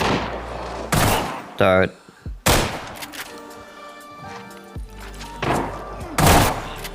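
Gunfire in a firefight in the video game Arena Breakout: several loud, sharp bursts of shots stand out near the start, in the middle and toward the end, with quieter game noise between them and a brief spoken word.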